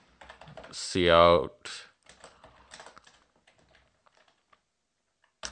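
Light, quick clicks of a computer keyboard as C++ code is typed, following a short spoken word and continuing softly and unevenly.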